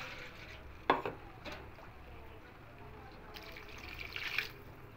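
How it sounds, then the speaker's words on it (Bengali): Water poured from a vessel into a cooking pot of spiced broken-wheat (daliya) khichdi with potatoes, a soft quiet trickle with a faint clink near the start, under low room noise and a brief voice. "এবার এখানে জল দিয়ে দেব"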